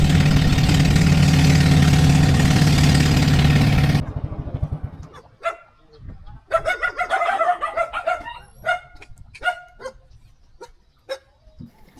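A boat engine idles near a river mouth, its low, steady drone cutting off abruptly partway through. A dog then barks repeatedly in short, irregular bursts in the quiet that follows.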